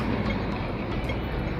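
A train passes in Hong Kong with a steady, loud rumble and rushing roar filling the whole clip, no voices over it.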